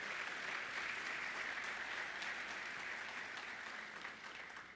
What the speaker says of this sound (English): Please take a second and help me give another round of applause